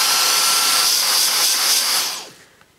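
A Dyson DC35 Digital Slim cordless vacuum cleaner runs with a loud, steady, high whining roar, close by, then winds down and cuts off near the end.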